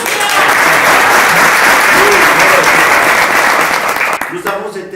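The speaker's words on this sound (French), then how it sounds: "On applaudit Julian." A theatre audience in Paris breaks into loud, sustained applause that fills the room for about four seconds, then thins out and fades near the end.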